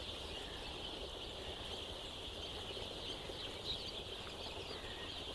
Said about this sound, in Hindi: ये देखिए माशाल्लाह से सारे के सारे चूजे जो अभी फीड खाने के लिए आ चुके हैं।